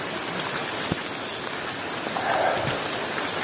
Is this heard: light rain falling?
yes